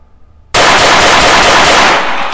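Rapid gunfire from a small 6.35 calibre pistol, one loud unbroken burst of quick shots starting abruptly after a brief silence and ringing out for nearly two seconds before tapering off.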